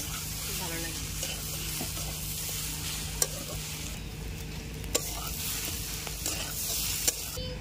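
Dal with roasted coconut being sautéed in a pan, a steady close sizzle with a spoon stirring through it and a few sharp scrapes against the pan, no voices.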